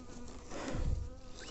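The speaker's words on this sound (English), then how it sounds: "This bee, I think, is a lost forager bee" A lone forager bee buzzes close by an empty wooden hive box, a near, wavering drone that swells briefly as it passes.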